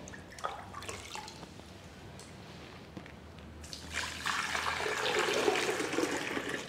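Water poured and splashing onto a freshly waterproofed concrete roof during a leakage test, a broad rushing wash that swells after a few quiet seconds of faint dripping and continues steadily.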